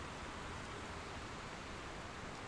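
Steady rain falling during a sailing trip, a dense, even hiss that fills the whole clip with no breaks and no talk.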